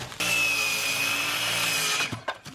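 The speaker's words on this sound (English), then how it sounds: "let's go ahead and cut this out of the 16-foot board here" A saw cuts through a 16-foot wooden framing board for a shed door in one steady, loud two-second pass, then stops with a few short knocks and rattles.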